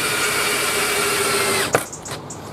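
A power drill drives a long screw through a hinge into timber, its motor whining steadily at close range for under two seconds before stopping, followed by a few small clicks and knocks.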